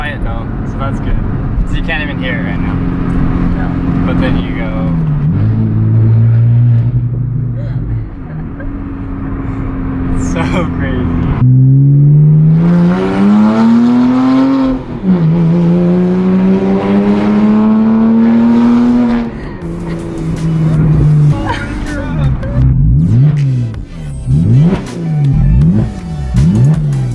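Loud straight-piped Porsche Cayman S engine revs repeatedly, climbing and falling in sharp rising whines, with a harsh exhaust note and voices talking between the revs.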